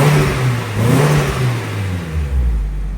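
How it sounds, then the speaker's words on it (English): A car with an SR engine and a new exhaust, a resonator and a muffler revs up in a steady rising whir, loud and close with a low rumble underneath and no talking. "Now I should actually hear my exhaust."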